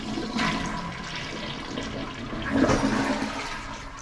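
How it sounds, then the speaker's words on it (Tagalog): A toilet being cleaned during a housekeeping job in Hawaii flushes, a steady rushing of water close by that swells midway through, with no talking. "Flush it."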